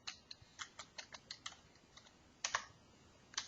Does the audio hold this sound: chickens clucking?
no